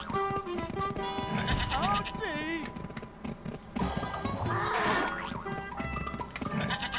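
Goat bleats from the video game Twilight Princess, two wavering cries rising over a busy mix of game music and effects, loud and close.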